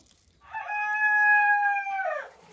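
A single drawn-out rooster crow rings out clearly for about two seconds in otherwise quiet surroundings.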